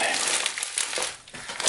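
A bi-monthly soap order package being opened by hand, with steady close crinkling and crumpling of packaging material throughout, briefly easing before picking up again.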